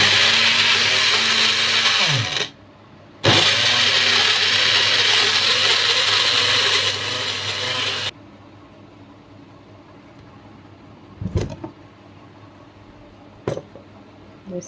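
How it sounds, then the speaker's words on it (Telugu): A kitchen blender purees white watermelon into juice with honey, a loud steady whirring roar that cuts out briefly and resumes before stopping, followed by quiet with a couple of soft clunks. "ఇదిగోండి జ్యూస్ పట్టేస్తున్నాను."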